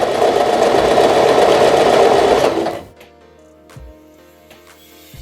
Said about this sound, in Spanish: Apretamos el pedal y la máquina retrocede. Soltamos. Seguimos cosiendo con costura recta.